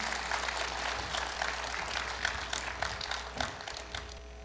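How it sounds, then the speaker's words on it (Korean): Audience clapping at the Korea University 111th anniversary ceremony: a scattered patter of hand claps with sharper individual claps standing out, moderately loud against a low steady hum, with no speech. "큰 박수 부탁드립니다"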